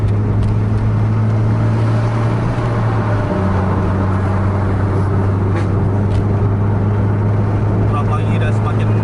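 Loud bus engine held at full throttle on a straight road, a sustained droning roar that shifts pitch partway through, heard from inside with road noise.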